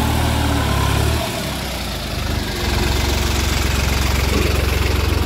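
A New Holland 5620 4x4 tractor of 70 hp runs at around 1500-1600 rpm in second-medium gear on an 11-tine tiller, a loud steady engine drone that dips briefly before settling back into an even rumble.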